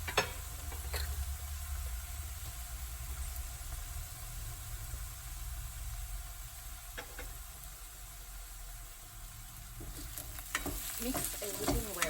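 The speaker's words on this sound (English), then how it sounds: "Mix everything well and fry it for another couple of minutes." Spiced potatoes seasoned with turmeric and salt fry in hot oil, giving a steady low sizzle and hiss with occasional scrapes and clinks from mixing near the end, moderately quiet and close, without speech.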